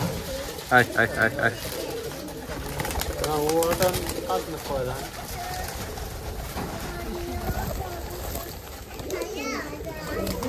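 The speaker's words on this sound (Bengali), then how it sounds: "অনেকগুলো কবুতর এখানে আছে।" Giribaz pigeons coo in low, rolling calls amid a busy mix of children's voices and chatter, with the birds close and steady underneath.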